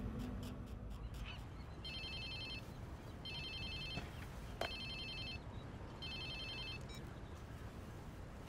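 A phone rings in Watch Dogs 2, sounding as four evenly spaced bursts of a bright electronic trill over a steady, dense game background with no talk.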